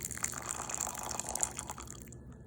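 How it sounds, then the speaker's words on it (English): Water pours into a pizza dough mixture in a bowl, a short gentle trickling stream that fades out near the end. "And a little bit of water to bind it together."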